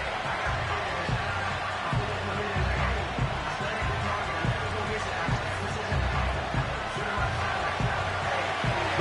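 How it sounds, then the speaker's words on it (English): Crowd noise fills a stadium in Madden NFL 25, a football video game, as a constant loud roar with scattered thumps, under commentary-style talk throughout. "The crowd making their presence felt."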